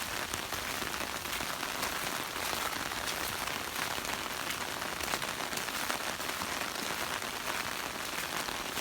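Steady rain pours onto a flooded backyard where the trees have been cut down, making a dense, even hiss of drops that continues unbroken at moderate loudness with no voices.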